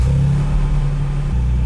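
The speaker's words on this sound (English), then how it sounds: "So go ahead and fire it up." A Toyota Tacoma truck engine turns over and settles into a steady low idle, loud and close, with a brief shift in pitch near the end.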